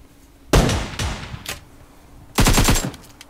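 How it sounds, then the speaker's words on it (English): Gunfire in PUBG Mobile: a sharp single shot followed by a few more shots, then a rapid burst of automatic fire near the end, loud and close. "I definitely shot the ground."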